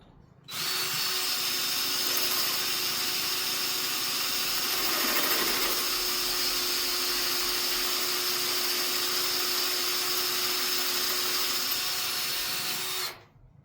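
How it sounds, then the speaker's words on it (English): A power drill bores into concrete, running steadily and loudly for about thirteen seconds, a continuous grinding whine that starts and stops abruptly. "I'm just going to drill in a couple inches"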